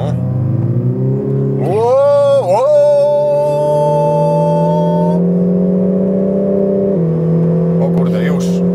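A Lexus IS 300h hybrid sedan accelerates hard on a wet road with traction control off, its engine tone climbing steadily and loudly inside the cabin after a brief rev.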